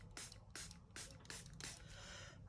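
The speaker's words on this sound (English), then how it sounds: "I'm going to go with a light sprinkling of water" A light sprinkling of water sprayed onto watercolour paper: five quick, close spritzes in an uneven rhythm, each a short hissing burst over a quiet room.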